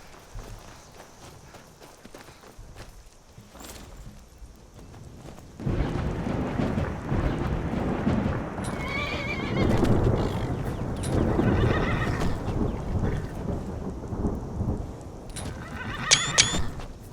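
A horse in Skyrim whinnies and neighs close by while hooves clip-clop at a run, over a steady outdoor rumble that grows louder partway through.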